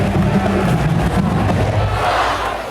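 A capacity crowd at a high school boys basketball game cheers and roars steadily, loud and dense, a continuous wash of voices throughout.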